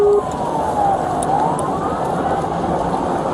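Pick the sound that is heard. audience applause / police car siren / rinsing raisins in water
police car siren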